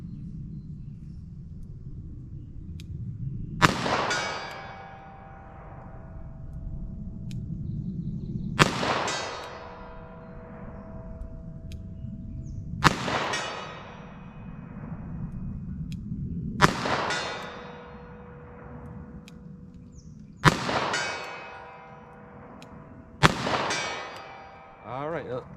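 A handgun fires six sharp, loud shots at a target 75 yards away on a shooting range, spaced a few seconds apart, each with a ringing, echoing decay.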